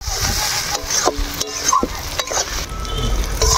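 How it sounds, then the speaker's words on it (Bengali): Masala with turmeric and red chili powder fries in hot oil while being stirred, a loud close sizzle broken by scraping strokes and clinks of the spoon against the pan. "এবার ভালো করে মশলাটা এবার কষিয়ে নিব।"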